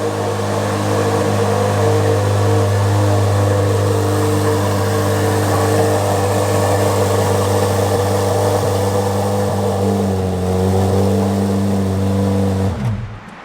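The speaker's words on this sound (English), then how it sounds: "I cannot believe how loud this car is." A 2025 Corvette Z06 engine idles loudly and steadily, a deep, even rumble that holds for the whole stretch before cutting off abruptly at the end; no one speaks.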